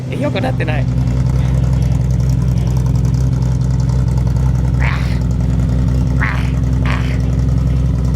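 A Datsun 240Z (Fairlady Z S30) engine runs steadily close by, a loud continuous mid-to-low drone with slight roughness, while people talk briefly over it.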